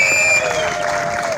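Crowd applause at a bridge inauguration in Uvira, South Kivu, a short burst of clapping and light cheering mixed with a sustained whistle-like tone, fairly loud and close.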